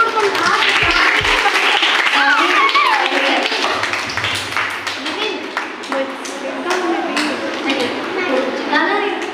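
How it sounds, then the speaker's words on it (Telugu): Children in a Sunday school Bible class clap along in scattered, sharp bursts throughout, mixed with lively talking and children's voices in a busy classroom. "clap clap"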